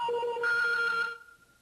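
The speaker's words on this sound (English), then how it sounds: "Because that's how long the ringtone is, right? It's the T jingle." A short T-Mobile ringtone jingle plays alone as a bright electronic melody of a few clear tones, stepping up to a sustained high note before ending abruptly and fading.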